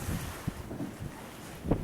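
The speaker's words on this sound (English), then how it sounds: "Windy and cold up here." Gusty, cold wind on a mountain campground at about 4,000 feet buffets the microphone in low, rough rushes with a few sharper bumps, outdoors and close.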